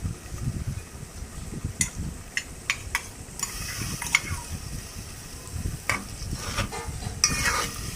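Tomato puree being stirred into tomato rice in a pan, with a soft, steady sizzle and repeated scraping, clinking strokes of a spoon against the pan, close and moderately quiet, no voices.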